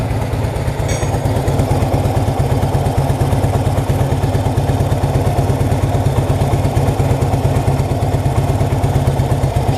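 A 1966 Honda Dream motorcycle engine runs steadily at idle, a close, loud, even putter with a light mechanical clatter that holds throughout without any talking.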